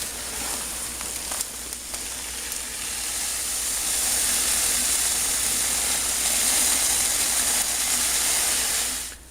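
Dry brewing grains from a full Evil Twin brew-in-a-bag kit pour into the mesh bag in a steady, loud granular rush that rises and holds, heard alone.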